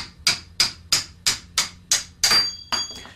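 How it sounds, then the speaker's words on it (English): Eight sharp metallic taps ring out at a steady, evenly spaced rhythm, close by, each with a bright clinking ring as a hammer strikes a screwdriver against the end of a round hoof rasp blade. "take a hammer and a screwdriver and tap the flat end of the blade to drive it out of the handle"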